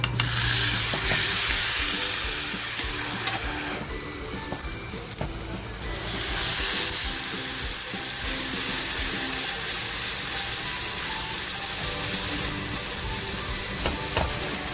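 Kurli crab hits hot oil with garlic and Kashmiri chili powder, giving a loud, steady sizzle with brief stirring scrapes and no voices.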